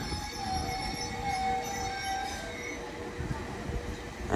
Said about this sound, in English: Train now departing is a 197